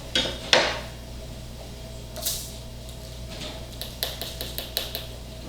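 A tablespoon of salt is tipped onto a precision household kitchen scale, giving faint scraping and granular rustle followed by a string of small, close clinks of a spoon against the metal pan in a quiet room.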